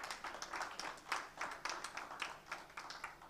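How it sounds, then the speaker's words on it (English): A faint, scattered round of applause from an audience at a book launch event, claps arriving in uneven bursts of roughly steady rhythm, distant and quiet. "A round of applause, please."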